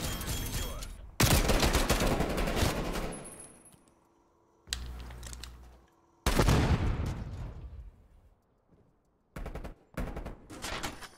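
Semi-auto Tec-9 SMG gunfire in Call of Duty Cold War, loud close bursts of rapid shots separated by short quiet gaps, with a few clinks of ejected shells.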